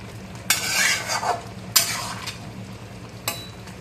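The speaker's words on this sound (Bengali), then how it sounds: "একটু ফুটিয়ে নিয়ে সিম করে দেবো এই যে দেখুন বেশি নাড়ব না অল্প নেড়ে" Spoon stirring Bengali steamed mourola fish curry in a pan, three separate scraping strokes against the metal over a soft simmering hiss, close and fairly loud with no voices.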